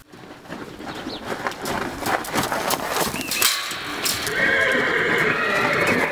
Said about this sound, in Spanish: Otra de las pasiones del primer actor Sergio Goyri, los caballos